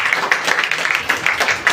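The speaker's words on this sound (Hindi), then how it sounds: "ताली कर सकते हैं इनके लिए।" An audience claps to welcome new members at a DXN business meeting, a steady run of sharp hand claps close by over about two seconds with no voice.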